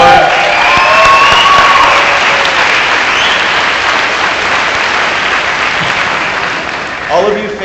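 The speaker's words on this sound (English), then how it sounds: "can we do that round of applause one more time for you as well?" Crowd at a summer graduation ceremony for an alternative high school program applauding, a loud, dense wash of clapping and some cheering that slowly fades, with a voice faintly under it near the end.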